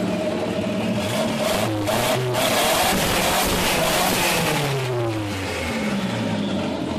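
Loud, close revving from a carburetted Volkswagen Voyage with a clogged manifold, the engine pitch swinging up and down in several throttle blips over a constant engine roar.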